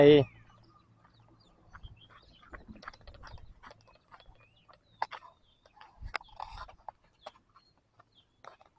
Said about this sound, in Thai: นี่ไก่เถื่อนนะ